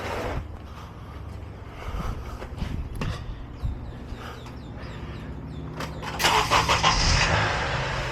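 A 2006 Honda Accord engine cranks and fires up after an oil change, catching with a few uneven bursts before swelling into a louder, steadier run near the end; fairly quiet and close.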